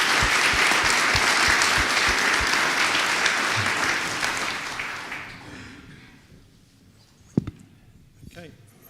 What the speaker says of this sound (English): a round of applause for joining